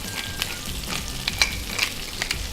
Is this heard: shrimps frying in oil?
yes